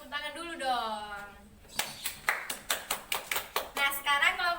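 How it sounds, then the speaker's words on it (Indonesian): A classroom claps together, a couple of seconds of evenly paced, unison claps between stretches of talking. "Tepuk tangan dulu dong."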